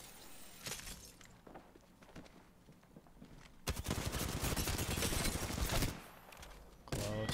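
Gunfire in Apex Legends: scattered shots early, then a dense, loud burst of rapid automatic fire in the middle for about two seconds, followed by a few further cracks toward the end.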